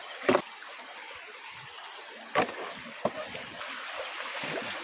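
Water of a small village stream trickles and splashes softly as people wade along it while out fishing in the Konkan, with a few sharper splashes from footsteps over steady low flow.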